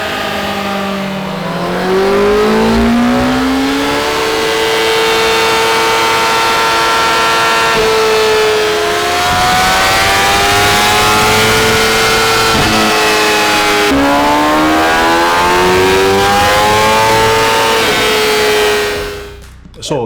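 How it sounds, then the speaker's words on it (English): A loud Kawasaki Ninja ZX-10R motorcycle engine, stock, revs hard on a dyno, rising in pitch repeatedly across several long pulls, then cuts off abruptly at the end. "the stock bike was making 182 brake horsepower on our dyno"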